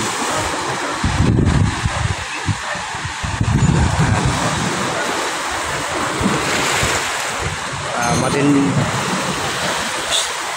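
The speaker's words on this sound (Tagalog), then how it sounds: "Hindi po umuulan ha, maanggi po dahil sa alon." Sea waves crash at the Manila Bay shore, throwing spray, with loud surging roars rising and falling under blustery wind noise.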